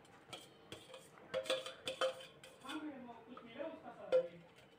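A spoon scrapes and clinks against a pan as bottle gourd curry is stirred, giving soft, irregular metallic knocks at close range.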